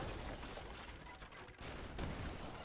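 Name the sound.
heavy cannons and gunfire in a strategy video game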